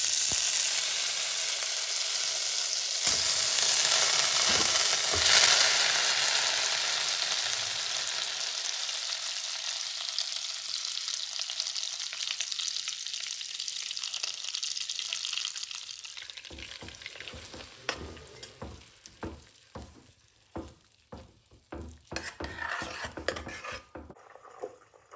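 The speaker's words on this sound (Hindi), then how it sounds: "पहले मक्खन बनेगा फिर घी बनेगा।" Butter heating in a pan to make ghee, a steady bubbling sizzle that slowly quiets, followed by scattered clinks and scrapes of a utensil against the pan.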